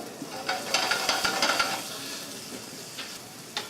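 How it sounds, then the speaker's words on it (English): Carrot and onion sauté in a pan, giving a steady sizzle overlaid by a burst of quick stirring scrapes and clinks early on, then quieter frying with occasional taps, nearby with no talking. "Once the carrot and onion saute, you add the shrimps."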